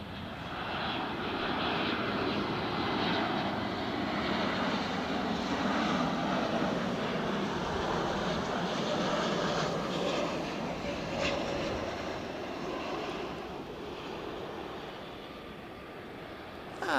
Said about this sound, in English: JetBlue, inbound from JFK.